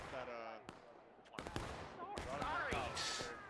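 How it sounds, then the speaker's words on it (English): Scattered musket volleys in the War of Rights Civil War video game crack out from the flank, a few sharp separate reports with distant popping between them, while people talk over the shooting. "Some flanking fire."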